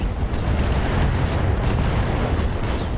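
A steady, loud rumbling explosion from the Roguetech mod of the BattleTech mech combat game, a dense low roar of blast and debris that holds without a break for about three seconds.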